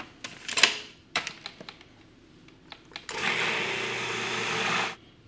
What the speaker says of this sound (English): I hope it'll all fit in my little, my small food processor.